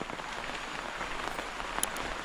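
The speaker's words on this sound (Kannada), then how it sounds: "ಇಲ್ಲಿ ನಮ್ಮ ಕಣಿಯಲ್ಲಿ ಹೇಗೆ ನೀರು ಹೋಗ್ತಾ ಉಂಟು ಈಗ" A steady, textured patter and rush of water runs throughout as a full field channel flows through a monsoon plantation, spilling over a surface, with a few brief louder splashes.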